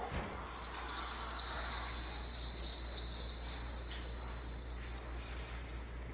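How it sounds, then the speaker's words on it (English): Delicate high bells tinkle and shimmer continuously over a faint low hum, overlapping chimes ringing softly without any pause. "the sound of golden bells"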